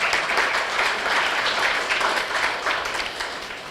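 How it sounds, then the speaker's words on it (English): Seminar audience gives a sustained round of applause, dense steady clapping filling the room for several seconds and fading slightly at the end. "can I please request everybody to again give him a big round of applause"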